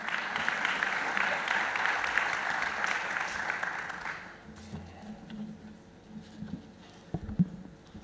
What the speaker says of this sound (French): je vous remercie d'applaudir très fort